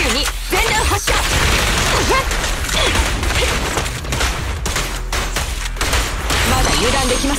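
A rapid gunfire barrage from the video game Zenless Zone Zero rattles in dense, loud bursts with crashing impacts, layered over game music and effects, with voices briefly audible.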